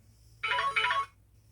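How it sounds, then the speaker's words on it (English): A mobile phone ringtone goes off close by, one short bright melodic burst of about half a second in two phrases. It plays over a quiet, steady low hum, with no talk. "I thought I had my phone in silence."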